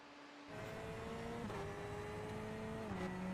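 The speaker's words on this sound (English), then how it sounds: "that Chevrolet is quite underwhelming of a noise, isn't it" Chevrolet GTE race car engine in a Le Mans racing video game, a steady, fairly quiet drone with gear shifts stepping the pitch, starting after a short silent lead-in.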